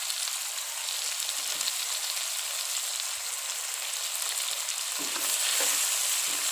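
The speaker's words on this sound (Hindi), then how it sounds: "इसको अच्छी तरह हम भून लेंगे।" Chicken pieces sizzle loudly in a pan after salt is added, a steady hissing frying sound with faint scraping of stirring and no talking.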